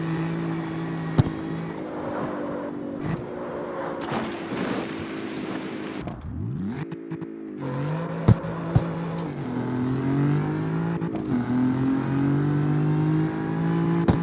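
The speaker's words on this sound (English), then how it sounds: "Gearbox sounds so good." A race car engine with a straight-cut gearbox in the CarX Street video game revs and shifts, a steady whining drone rising and falling in pitch through gear changes, with a brief dip midway and a few sharp clicks.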